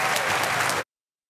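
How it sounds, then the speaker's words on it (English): Audience applause for Speaker Nancy Pelosi at an evening event at Cap Times Idea Fest 2024 in Madison, a dense, steady burst of clapping from a large crowd that cuts off abruptly after under a second. "So let's give a gigantic round of applause to Speaker Nancy Pelosi."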